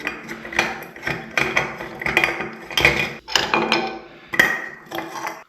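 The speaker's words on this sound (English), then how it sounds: "We can see a little screw we need to undo it with a screwdriver." A screwdriver is undoing the screw on a toilet cistern lid, giving a series of close, rhythmic metallic clicks and ratcheting scrapes, about two per second, with no talk.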